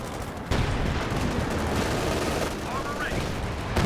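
Continuous submachine gun fire in Company of Heroes 2, a dense, unbroken rattle of battle noise that stays loud and steady throughout.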